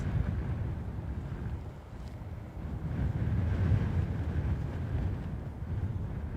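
Strong wind buffets the microphone at an airport, a continuous low roaring rush that swells and eases in gusts without pause.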